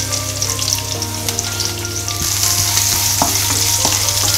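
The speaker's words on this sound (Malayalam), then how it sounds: "ഇഞ്ചി വെളുത്തുള്ളി പിന്നെന്താ ആദ്യം അതിടാം, പിന്നെ അതിൻ്റെ കൂടെ ഒരു പച്ചമുളക്." Ginger, garlic and green chili frying in a pan for a soya chunks curry, a dense continuous sizzle with stirring scrapes and clinks, close and fairly loud, with no talk.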